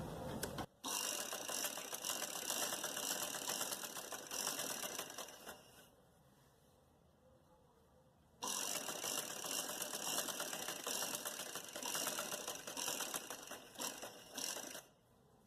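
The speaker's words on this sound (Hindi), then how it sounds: "ये जो हमने निशान लगाया है, इसके ऊपर हम सिलाई करेंगे।" Sewing machine stitching a button placket neckline, running in loud, rapid mechanical bursts with a clear pause midway before stitching resumes.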